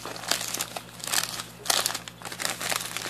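A taped package of hermit crab supplies is pulled open, giving continuous close crinkling and crumpling of packaging with sharp rustling bursts and no talking.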